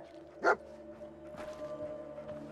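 Dogmeat, the canine companion in Fallout 4, gives one sharp, close bark, followed by quieter game ambience and faint noises.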